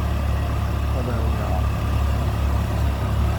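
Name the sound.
tractor engines running at tractor and engine show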